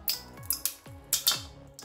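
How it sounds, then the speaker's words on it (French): Scissors snip through slime in about five quick, crisp cuts at an uneven rhythm, each with a soft squelchy tail, heard close up and alone. "j'utilise ma paire de ciseaux qui ne me quitte pas pendant mes vidéos"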